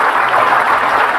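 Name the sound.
audience applause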